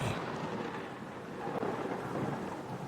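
A thunderstorm at sea: steady heavy rain and wind wash with a low, rolling rumble of thunder that swells slightly midway, continuous and fairly close, with no voices.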